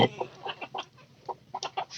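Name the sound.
hen clucking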